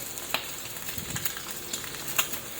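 Eggs frying in a pan with a little cooking oil, a steady close crackling sizzle with occasional sharper pops and stirring scrapes.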